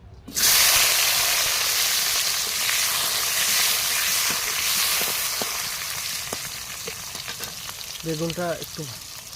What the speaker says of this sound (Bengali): এবারে আমি বেগুনটা একটু ভেজে নেব।